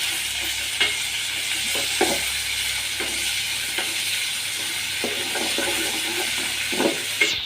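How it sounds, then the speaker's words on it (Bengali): Chicken pieces frying in a pan, a steady sizzling hiss broken by regular scraping and clacking strokes of a spatula stirring roughly once a second, no voices. "চিকেনটা দিয়ে একটু আমি ভাজা ভাজা করবো"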